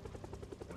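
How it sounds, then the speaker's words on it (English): A helicopter hovers in the zombie survival game Project Zomboid, heard as a faint, rapid, rhythmic rotor chop that pulses steadily throughout. "the longer the helicopter stays here, the more it attracts."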